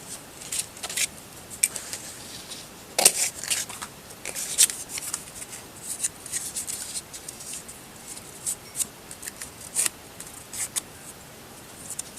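Scissors snip through paper to make a hinge for a handmade book, a run of quick, crisp cuts and rustles spread irregularly over several seconds, close and fairly quiet with no talking.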